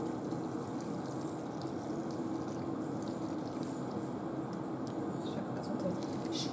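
Liquid is poured over a spaghetti and bacon bake made in a Thermomix TM5, giving a steady, even wash of pouring sound at close range that continues unbroken with no talk.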